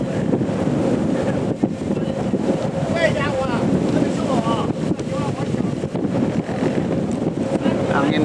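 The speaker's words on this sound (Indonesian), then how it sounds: "Angin sangat besar." Strong wind buffeting the microphone at an outdoor high-speed rail slab-track construction site, a loud continuous roar with faint squeaky mechanical chirps partway through and no clear talk.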